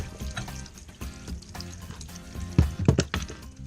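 Hissing sizzle of a hot soldering joint touching water in a pipe during tub faucet installation, with crackling bursts that grow louder near the end.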